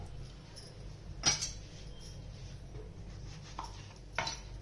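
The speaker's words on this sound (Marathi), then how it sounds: "आपण असे आता वांगे चिरायचे" A few sharp knife chops through brinjal on a board, three isolated cuts spaced about a second or more apart, quiet and close with faint background hum.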